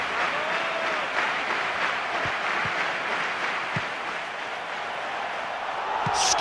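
A stadium crowd in the PES 2013 football video game roars steadily with applause and a broad, continuous wash of cheering, with a few soft thumps and no clear talk.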